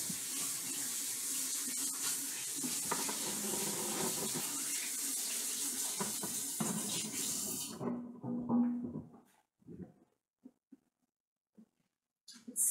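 Tap water runs steadily into a sink while hands are washed, a continuous hiss that cuts off abruptly, followed by a few faint drips and handling noises in quiet.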